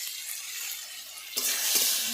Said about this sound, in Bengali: এর জন্য গোটা শুকনো লঙ্কা এবং সর্ষে 5 ফোড়ন দিয়ে আম তুলে দিয়েছি